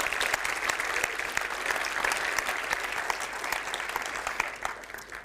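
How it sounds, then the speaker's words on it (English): A conference audience in a session room bursts into dense, steady applause, many hands clapping close together for several seconds. "please give a warm applause once again inside this room"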